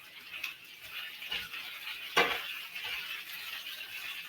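Potatoes fry with a soft, steady sizzle in a pan while a utensil scrapes and stirs them, with a couple of sharper clinks against the pan, fairly quiet and close.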